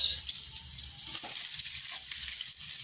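Onions sizzle steadily in a hot pan while kare-kare is being cooked, a soft continuous fry at moderate distance with no talking.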